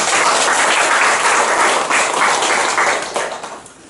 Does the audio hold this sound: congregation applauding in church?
yes